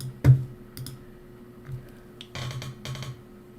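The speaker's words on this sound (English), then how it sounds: "Your typing sounds big." Someone types on a computer keyboard in bursts: a sharp first click, then scattered single keystrokes and two quick clattering runs of rapid taps, close and fairly loud.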